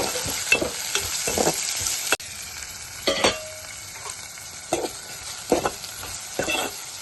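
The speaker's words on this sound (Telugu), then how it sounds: "ఉల్లిపాయలు వేగిన తర్వాత కట్ చేసుకున్న టమాటా ముక్కలు, క్యారెట్ ముక్కలు వేసుకున్నాం." Tomato and carrot pieces fry with onions in a pan while making puri curry, giving a steady close sizzle broken by repeated scraping stirs of a spoon, with no talk.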